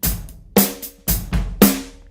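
Yamaha electronic drum tom-toms struck in a steady pattern, each hit a sharp attack trailed by a sustained snare-like buzz, four close, loud strikes with no talking.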